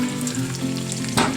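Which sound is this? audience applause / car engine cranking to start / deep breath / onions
onions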